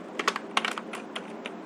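Computer keyboard keys clatter in quick, uneven bursts while someone types code, a close, fairly quiet run of clicks with short pauses between clusters and no talking.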